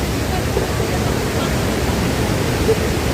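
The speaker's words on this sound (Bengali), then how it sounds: "ঝর্ণাটা খুবই সুন্দর" An outdoor waterfall roars as a loud, close, continuous rushing wash of water that stays even throughout.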